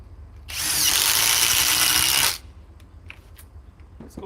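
A Ridgid power drill runs at steady full speed for about two seconds, loud and close, with a sharp start and stop and no talking over it.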